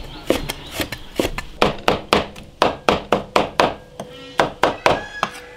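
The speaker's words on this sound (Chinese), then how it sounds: "这个肉把它剁碎一点" Thawed lean pork being minced with a cleaver on a board, a rapid series of about twenty sharp, loud chopping thuds in a steady rhythm.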